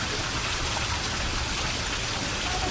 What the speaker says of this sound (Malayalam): മഴ ചാറി തുടങ്ങി.